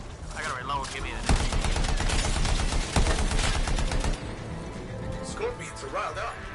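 Rapid automatic gunfire against scorpions in the video game Anthem, dense bursts of shots with heavy punches near the start and middle, loud and close, with a voice talking over parts of it.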